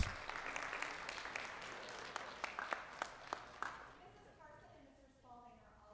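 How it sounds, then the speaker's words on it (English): An audience at a county public schools board meeting claps in a steady round of applause with a few sharp individual claps standing out, fading away as a voice begins talking over the end. "Can we give our recipients and the foundation one more round of applause, please?"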